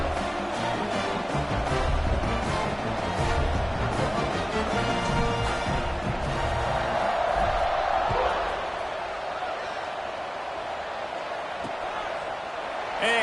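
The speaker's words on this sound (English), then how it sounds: "this crowd is buzzing after that last score." A college football video game crowd in a Purdue game buzzes with a broad, steady roar that fills the background while a commentator's voice talks over it throughout.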